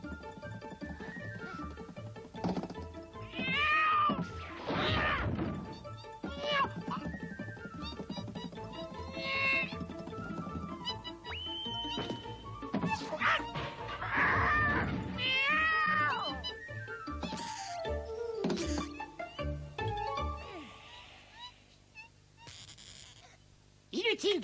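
An animated cartoon cat in a French Puss in Boots film meows and caterwauls again and again, loud and close, its long wavering cries rising over other voices and background sounds.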